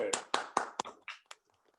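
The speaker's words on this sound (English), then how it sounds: "huge round of applause for Sarah and Martin" Brief scattered applause in an online Rotary meeting: a handful of separate claps, close and uneven, fading out after about a second and a half.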